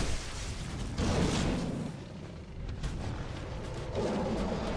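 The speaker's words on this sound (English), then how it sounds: "Explosion? No, that's magic." Magic spell blast in the video game Dark Souls 2, heavy booming bursts rumbling one after another, loud and close amid noisy game action.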